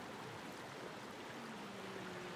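Hot spring water spills into an outdoor pool, a steady broadband rushing wash that holds constant and fairly close, with no voices over it.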